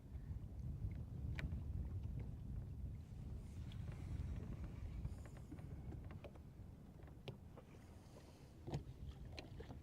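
Wind gusts across open water while fishing from a boat on Lake Guntersville, a constant low rushing noise with occasional small knocks and clicks against the hull.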